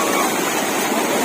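A waterfall pours down from above at Meenmutty Falls, a constant loud broadband rush of falling water filling the scene without a break.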